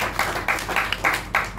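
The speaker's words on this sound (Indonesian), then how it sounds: "Beri tepukan yang gemuruh untuk Tuhan kita." A few people at a big family gathering clap together in a short burst of loose, uneven claps, close by and moderately loud, with no talking over them.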